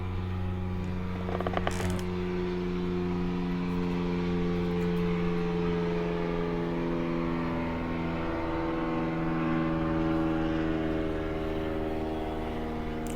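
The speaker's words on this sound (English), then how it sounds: "can you feel yourself waiting for the helicopter to pass?" A helicopter passes overhead with a steady, droning rotor and engine hum that holds at moderate loudness throughout, heard from a quiet indoor setting with no talking.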